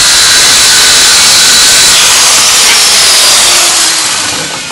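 A loud electric saw rips along a length of yew or ash wood for a Windsor chair, a close, harsh, sustained roar that fades slightly as the cut ends.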